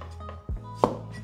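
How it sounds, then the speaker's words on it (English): A radish is cut with the Chinese rolling knife method, sounding as a few sharp, separate knife strikes on a board, close and distinct, with no talk over them. "This chopping method I'm doing now is called"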